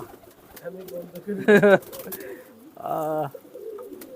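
Pigeons perched on a hand and eating chickpeas give two short, close cooing calls a moment apart over quiet background rustling.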